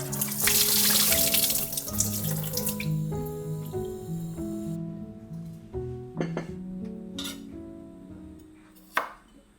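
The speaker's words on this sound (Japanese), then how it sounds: "早速野菜を洗う。" Vegetables being washed under a running kitchen tap, with steady water rushing into the sink for the first few seconds, then quieter splashing and handling over soft background music, ending with a brief knock.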